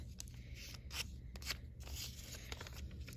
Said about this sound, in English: So I'm folding this in half, making a crease.